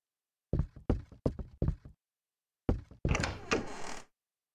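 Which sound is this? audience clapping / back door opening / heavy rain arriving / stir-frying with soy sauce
back door opening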